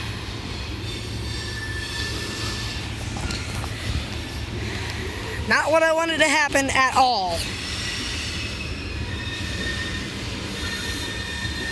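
A loaded CSX coal train rolls past at a distance near Grafton, West Virginia, a steady low rumble with a brief burst of high wheel squeal in the middle, while someone talks over it.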